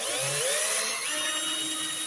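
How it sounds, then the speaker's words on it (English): Electric drill spinning a speedometer cable attached to a Land Rover speedometer, a steady high-pitched whine with a slight pitch shift, continuous and close for about two seconds. "if I put the end onto the speedo and attach the cable to a drill"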